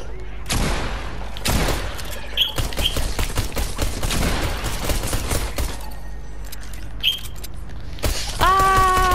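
Fortnite zombie-survival gunfire from a pump shotgun and a pistol: loud sharp shots and bursts fire in a dense, irregular run with game effects and chirpy tones, close and steady throughout.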